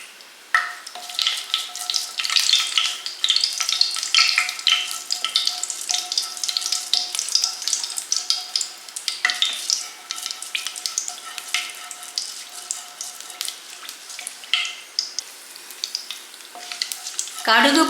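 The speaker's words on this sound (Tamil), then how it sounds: "ஆயில் சூடானதும் 1/2 டீஸ்பூன் கடுகு," Mustard seeds crackle and pop in hot oil in a pan in a dense, continuous stream of sharp little bursts under a steady sizzle, fairly close.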